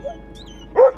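A dog on an Australian cotton farm gives a single short, sharp yip, close and fairly loud, over a quiet background.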